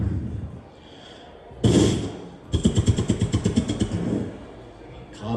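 An old car, a Toronto, cranked by its starter in a garage setting: a loud thump, then a rapid rhythmic chugging of repeated cranking bursts for about two seconds, with a faint voice in the background.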